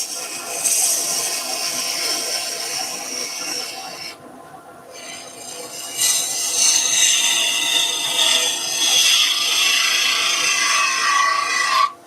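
A resin banksia apple spins on a wood lathe as a tool shapes it, giving a steady scraping, rasping hiss that cuts out briefly midway and then resumes louder.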